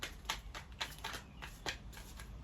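Tarot cards are shuffled by hand in a quiet room: a steady series of soft, crisp riffling bursts, about eight in quick rhythm, close and faint.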